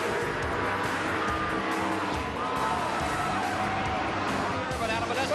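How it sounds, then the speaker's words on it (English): NASCAR race cars at the 1992 Daytona 500 slide with tires squealing, engines roaring in a dense, continuous wash of track noise while an announcer talks over it. "he's into Elliott, they're sliding, trying to correct, pick them up, into the wall goes Sterling Marlin"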